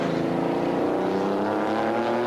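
A race car in the 1995 BPR Global GT Series at Monterey, driving with only fifth gear left, holds a rough, low-revving engine drone that stays steady and loud for the whole stretch.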